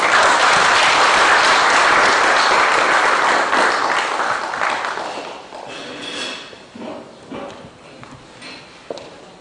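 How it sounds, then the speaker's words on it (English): Loud, dense applause from the audience at a national agriculture summit, honoring the chief guest, holding strong for about five seconds before thinning into scattered individual claps. "Let's give him a round of applause."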